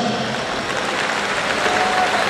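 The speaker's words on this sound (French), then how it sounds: "Allez, applaudissez pour le drone." Crowd applause at a ceremony in Cameroon where a drone delivers the country's first biometric card, a thick, continuous wash of clapping with faint tonal sounds underneath.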